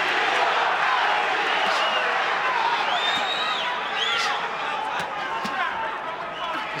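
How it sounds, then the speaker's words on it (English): Boxing arena crowd at a professional title fight chants a fighter's name, a loud rolling roar of many voices with rising and falling calls, whistles and shouts, filling the hall continuously. "Crowd chanting Castillo, Castillo."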